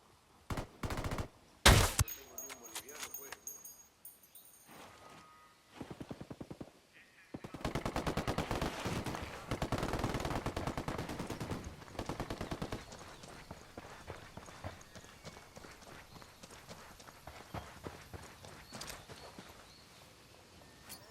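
Rapid bursts of automatic gunfire crackle through a firefight in Ghost Recon Wildlands, with loud close volleys early and sustained rattling fire later, alongside occasional voices.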